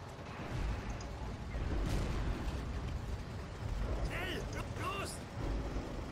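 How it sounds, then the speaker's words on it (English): A booming explosion erupts in the Forgotten Hope battlefield game among distant gunfire and mechanical noise, with a person talking over the action. "Oh, explosion there."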